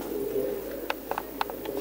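A pigeon, a female with sour-coloured eyes kept by a fancier, coos in a low, steady murmur up close, joined by a few faint sharp clicks and taps, with no one talking.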